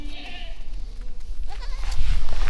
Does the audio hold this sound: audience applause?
no